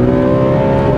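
A high-mileage Honda Civic Type R engine revving hard into VTEC, a loud, close, rising engine note held for a brief moment.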